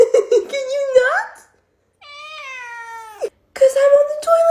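A house cat meows repeatedly and loudly up close, with long drawn-out, rising and falling cries separated by short pauses; a person's voice may briefly mingle with the first calls.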